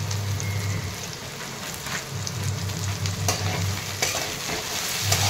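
Okra sizzles steadily in a pan as it is stirred, with a constant close frying hiss broken by periodic scraping and clattering stir strokes.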